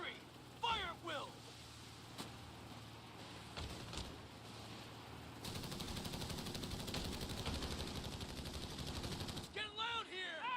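Rapid bursts of infantry rifle and machine-gun fire in a battle video game, a dense sustained volley in the second half with shouted voices over scattered shots before it.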